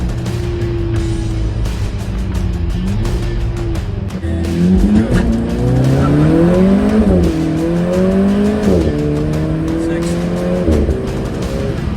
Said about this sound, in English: Downshift with my flappy paddles here.